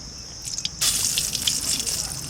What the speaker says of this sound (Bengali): এবার পোস্ত রান্না করব রুই পোস্তর তেল দিয়ে দিচ্ছি